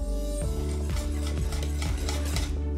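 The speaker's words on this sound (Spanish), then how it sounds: "vamos a seguir removiendo un poquito más" A utensil scrapes steadily around a pot of thickened milk on the stove, a rhythmic rubbing stir repeating about every half second over a constant low hum.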